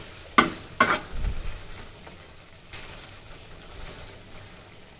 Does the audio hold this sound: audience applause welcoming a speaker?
no